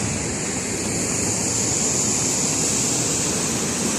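Rushing water pours steadily at the New Lanark heritage site in Scotland, a loud, continuous broadband roar like a waterfall, close and unbroken for the whole stretch with no voices.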